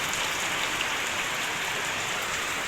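Heavy rain pouring with wind, a dense, even, continuous hiss of water falling on surfaces nearby, steady throughout with no voices.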